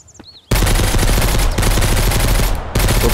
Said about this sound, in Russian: Кто-то стреляет с винтовки